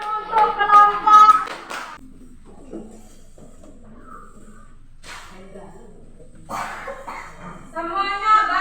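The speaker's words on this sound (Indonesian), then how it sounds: "Tepuk tangan untuk kelompok." Students in an Indonesian classroom clap for a presenting group, a burst of applause at the start and again near the end, with talk in between.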